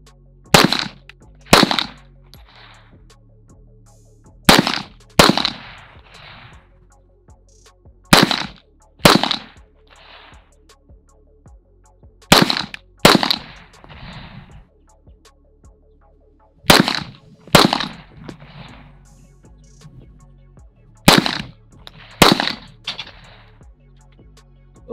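Pistol shots from a Canik TP9sfx ring out in quick pairs and short strings across a range session, each crack sharp and loud with a brief echo tail, with pauses between the groups.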